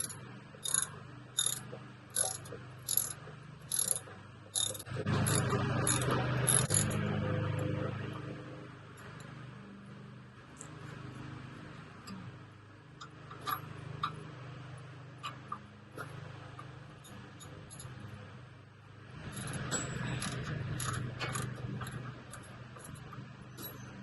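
A wrench tightens a bolt on the upper control arm of a 2008 GMC Sierra pickup, with quick rhythmic ratcheting clicks at the start and again near the end, separated by stretches of dull metallic working noise close by.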